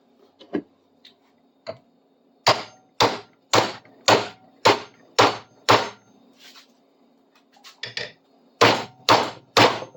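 Sharp metallic hammer blows on a metal tool held in a vise ring out in a steady series, close and loud, with a few lighter taps first and brief pauses between strikes.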